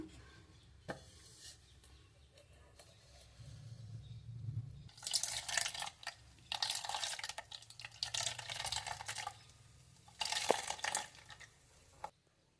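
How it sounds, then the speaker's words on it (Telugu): Coconut milk dripping and trickling as ground coconut is squeezed and strained through thin cloth in a home kitchen, with soft liquid splashes in several bursts, close and fairly quiet, with no talking. "నేను ఒక పలసని క్లాత్ తీసుకున్నానండి దీంతో వడకడుతున్నాను"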